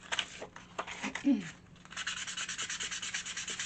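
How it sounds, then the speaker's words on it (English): 800-grit silicon carbide sandpaper rubs along the rough wooden edges of a furniture build, first in a few scattered scrapes, then in quick, even back-and-forth strokes, close and fairly quiet. "sandpaper. And I'll just take that rough edge off of everything"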